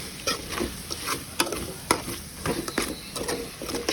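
Chicken curry stirred with a ladle in a pan, irregular scraping strokes and clicks over a soft background sizzle, close and moderately loud.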